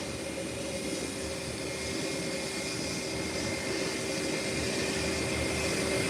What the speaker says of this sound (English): The JetBlue is a 319. It's an Airbus 319.